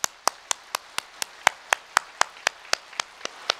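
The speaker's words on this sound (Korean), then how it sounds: "우리 금천, 구리, 안산예배당 성도를 힘내시라고 박수 한번 칩시다" A church congregation claps for fellow believers from the Geumcheon, Guri and Ansan chapels: about fifteen sharp, evenly spaced claps in a steady, brisk rhythm, crisp and fairly close, with no talking.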